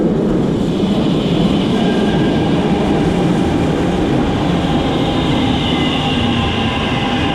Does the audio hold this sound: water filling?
no